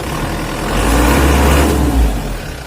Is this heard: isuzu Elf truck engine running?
yes